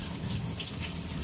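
Water draining down a pipe, a steady, loud, rushing gush that fills the whole moment without pause and with no voices over it.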